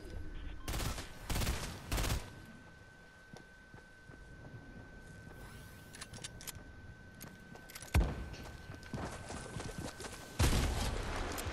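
Fortnite video game gunfire comes in several loud bursts of rapid shots, separated by quieter stretches of game ambience with faint clicks and rattles.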